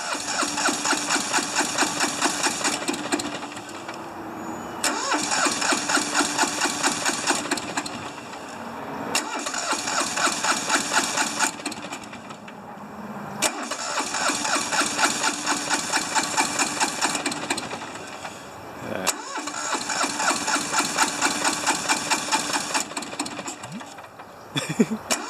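A cold diesel engine is cranked repeatedly, with several long stretches of rapid, rhythmic starter chugging split by short pauses; the engine is close and steady, with no voices.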